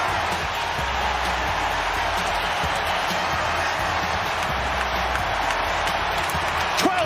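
Baseball crowd at Wrigley Field roaring after a Chicago Cubs home run by Kyle Tucker, a sustained loud wash of cheering and clapping with a broadcaster talking over it.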